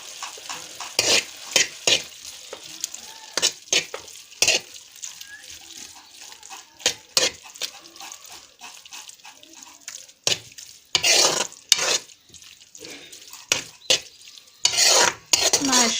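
Lauki halwa is stirred and roasted in a pan, with repeated scraping strokes of a spoon against the metal in irregular bursts over a soft, continuous sizzle.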